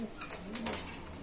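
Soft, low pigeon cooing from a racing or Giribaz pigeon in a loft, brief and faint against a busy background hiss.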